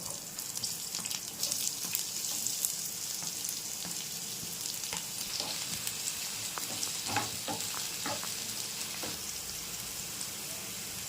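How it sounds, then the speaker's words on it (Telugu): Green chillies and onions fry in hot oil with a continuous, crackling sizzle and scattered small pops and spatters, steady and close with no voices. "ఆయిల్ మరిగిన తర్వాత పచ్చిమిర్చి వేసుకోవాలి అలాగే ఉల్లిపాయ కూడా వేసుకుంటున్నాను"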